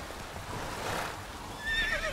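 Roach, a horse in The Witcher 3 on PC, lets out a whinny near the end, a high wavering neigh over quiet game ambience with soft hoof clops underneath.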